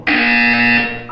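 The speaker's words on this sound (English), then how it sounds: "When you hear the buzzer, look down at the floor." A loud electronic buzzer from the Portal 2 video game sounds once, a steady harsh tone lasting just under a second before cutting off.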